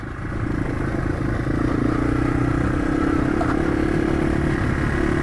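Yamaha TW200 motorcycle riding an off-road trail, a close, loud, steady engine drone that builds up in the first second and holds with slight pitch shifts, along with some clatter from the rough ground.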